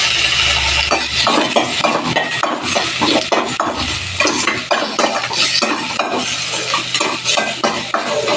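Tomato sautéing in an iron pan: steady loud sizzling with repeated scraping and metallic clinks from stirring throughout, no voices.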